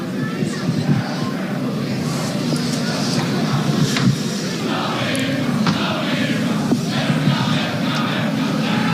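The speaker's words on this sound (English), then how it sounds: "There's too big a crowd. We can hear it." A large crowd at a Wimmera Football League grand final roars and murmurs as a continuous wash of noise, with occasional shouts rising above it, heard from a distance behind the broadcast.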